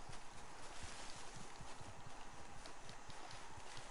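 Horse hooves clip-clop in a steady, rapid rhythm in a western video game, a continuous faint trotting patter with no talk over it.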